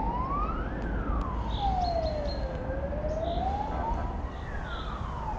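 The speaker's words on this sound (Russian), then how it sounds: "сирена работает" A siren wails up and down in long slow sweeps over a constant roar of traffic by the Moscow Canal in Khimki, moderately distant and steady throughout.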